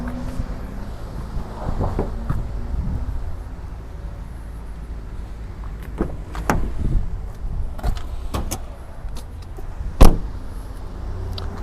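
The engine bay of a 2012 Ford Ranger 2.2 Hi-Rider XLT Auto being opened: soft clicks and knocks of the latch and hood, a sharp metallic clunk near the end, heard close over low background hum.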